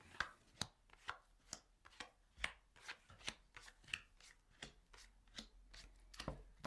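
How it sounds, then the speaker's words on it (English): Tarot cards being shuffled on a table during a reading, giving sharp, quiet riffling snaps that recur roughly every half second, close and soft with no talk. "I'm just shuffling the cards now"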